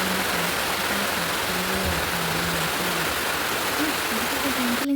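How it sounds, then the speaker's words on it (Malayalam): Heavy rain pours down as a dense, steady, loud roar that holds evenly throughout with no breaks. "നല്ല മഴയാട്ടോ."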